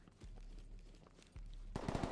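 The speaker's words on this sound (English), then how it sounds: "I'm under heavy fire." Gunfire in the tactical shooter game Ready or Not, with loud bursts of shots over a rumbling low background that swells into a heavier volley at the end.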